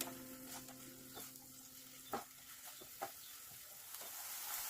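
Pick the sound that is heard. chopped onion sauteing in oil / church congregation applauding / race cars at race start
chopped onion sauteing in oil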